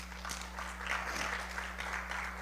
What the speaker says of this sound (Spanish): denle un aplauso a Areli